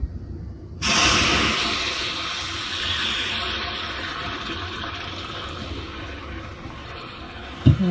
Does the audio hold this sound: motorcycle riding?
no